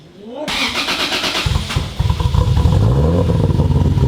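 A Honda Civic engine cranks with rhythmic starter pulses, catches, and roars to life into a loud, rough running rumble close by.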